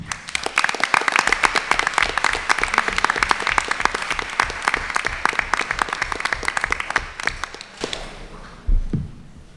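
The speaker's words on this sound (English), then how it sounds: "give you a round of applause for all the work that you've done this year" A group of Science Olympiad students receives sustained applause at a school recognition event: sharp, close individual claps from a modest crowd, steady for about eight seconds before stopping, followed by a brief bump and shuffle.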